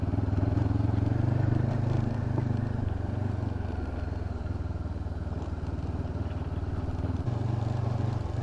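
A Honda CB500X motorcycle engine hums steadily as the bike rides a rocky forest trail on a mountaintop, a continuous mid-pitched drone with rattling and clatter from the rough ground, no voices.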